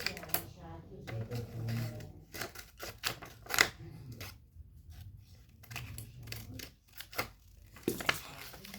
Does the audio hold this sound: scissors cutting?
yes